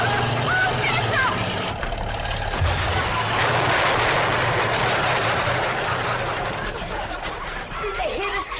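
An old truck roars toward a cabin, a loud steady engine rumble that persists throughout, with voices and other noise layered over it.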